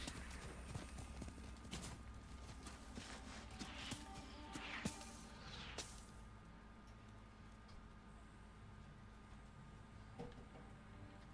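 A horse's hooves clip-clop in the video game Ghost of Tsushima, a steady quiet trot of regular hoofbeats under game ambience, with a brief whoosh of activity in the first half before it settles.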